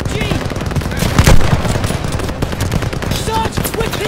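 Machine gun fire rattles in rapid bursts during a Call of Duty: Vanguard battle, loud and close, with a heavier blast in the middle and battlefield noise all around.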